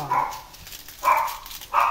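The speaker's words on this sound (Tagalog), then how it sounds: "Ang ingay ng aso" A dog barks three times at a distance, short sharp yaps spaced about a second apart, with a quiet background and no talk over them.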